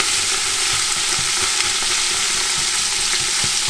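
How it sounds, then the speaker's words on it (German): Root vegetables and tomato paste fry together in a pot for a venison roast, giving a steady, close, dense sizzle with faint stirring scrapes throughout and no voices. "Und das brät jetzt auch einfach mit an, bis es richtig schön Farbe kriegt."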